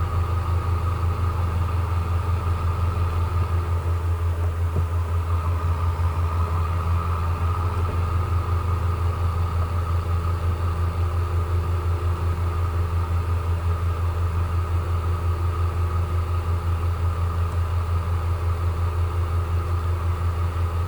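A tractor engine runs steadily throughout in Farming Simulator 22, a continuous low idling rumble with a constant mechanical hum and no talk over it, heard during a wheat harvest.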